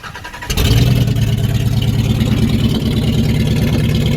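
A hot-wired car engine cranks and catches after a brief quiet moment, then settles into a loud, steady idle that runs on with no help.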